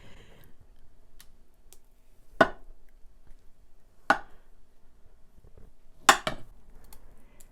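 A knife cutting into a keto tiramisu bomb cake with a dark chocolate topping, three separate sharp taps of the blade on a plate or board, quiet background between them, no speech.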